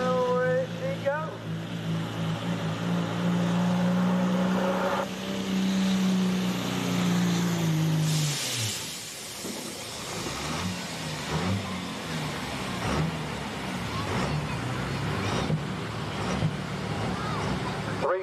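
A truck at a tractor pull in Amelia Court House, Virginia spools up with a droning engine roar that rises, then breaks into harsh, loud pulling noise as it pulls away, with people talking and cheering over it.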